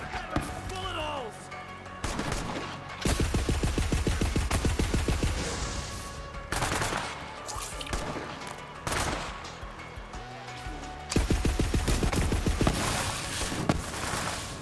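Rapid gunfire bursts from a Hyperion gun in Borderlands 3, loud and close, repeating in several volleys with short gaps between, mixed with game music and impacts.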